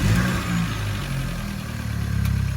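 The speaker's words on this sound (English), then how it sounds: "Just increase the RPM slightly." A 2017 Chevy Malibu fitted with an aftermarket intercooler runs with the RPM raised slightly, giving a loud, close, steady engine drone with a gentle surge near the end and no speech.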